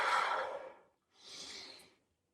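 Two deep, breathy exhalations, one long and one shorter after a brief pause, close to the microphone, from a person exercising their fingers while working up a sweat.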